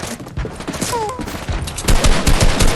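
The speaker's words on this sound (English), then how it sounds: "They're shooting me!" Gunfire aimed at the player in a video game, a dense rattle of shots that grows louder toward the end, with brief sounds mixed underneath.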